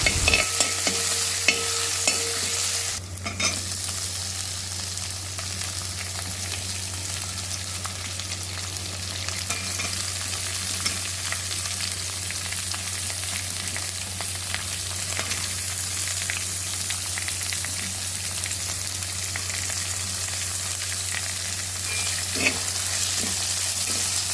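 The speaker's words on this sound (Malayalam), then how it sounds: "ചൂടായി എണ്ണ ഒഴിച്ച് ഈ അരിഞ്ഞു വെച്ചതെല്ലാം നല്ലതുപോലെ വഴറ്റിയെടുക്കുക" Chopped vegetables and curry leaves sautéing in hot oil over a gas flame, giving a continuous, close, crackling sizzle with faint stirring scrapes throughout and a low steady hum beneath.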